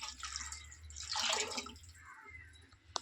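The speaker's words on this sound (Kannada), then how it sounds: "ಈಗ ನಾನು ನೀರು ಹಾಕ್ತಾಯಿದ್ದೀನಿ ನೋಡಿ ಫ್ರೆಂಡ್ಸ್." Water is poured into a cooking pot of vada curry in a short, quiet gurgling splash that swells and fades, followed by a faint drip.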